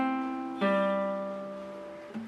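Nylon-string classical guitar picks the notes of a simple easy-song measure, played close and clean, each tone ringing on into the next.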